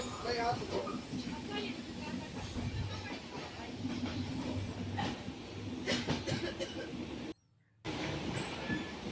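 An express train rumbles steadily alongside a moving train on the Chennai-Coimbatore route, with rhythmic clatter and hiss, close and continuous, with voices faintly under it and a brief dropout near the end.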